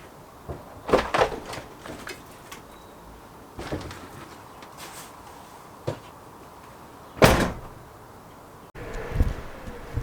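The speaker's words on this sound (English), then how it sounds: "So that's the bikes now pushed back after opening the back door" A van's rear door on a Peugeot Boxer, Citroen Relay or Fiat Ducato opens with a Memo swing bike carrier attached, giving scattered clunks and rattles, with one sharp bang near the middle of the stretch and a low shuffle as it ends.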